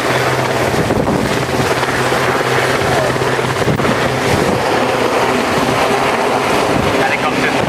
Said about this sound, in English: Helicopters transitioning into forward flight.